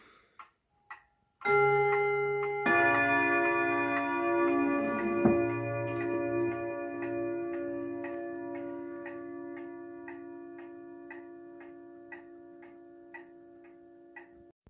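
A small 1937 Junghans box clock gives a few clicks, then a long, bright resonant ring that slowly fades while steady, even ticking continues up close.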